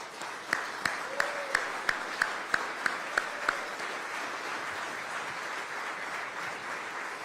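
Applause breaks out for city community service and innovation staff, with a short run of about a dozen distinct sharp claps over a steady crowd wash that carries on evenly after the individual hits fade.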